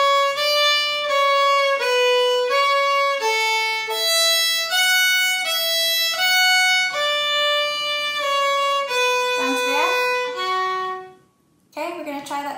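Solo fiddle plays two phrases of the Manx tune Ta Cashen Ersooyl, a flowing run of bowed notes ending in a brief slide. The sound is close and bright, followed by a short pause and then a few notes more.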